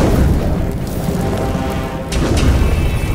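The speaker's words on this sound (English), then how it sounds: "Oh man, fire!" A cartoon fire bursting out in an animated scene: a dense, loud roaring whoosh with crackling texture that fills the whole stretch, with no talking.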